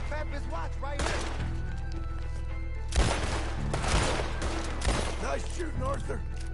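A Red Dead Redemption 2 shootout produces repeated gunshots, sharp cracks clustered in bursts over a few seconds, with game voices talking and a steady droning background throughout.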